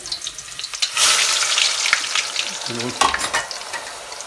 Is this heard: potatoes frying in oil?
yes